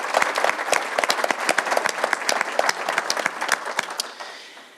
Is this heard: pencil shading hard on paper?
no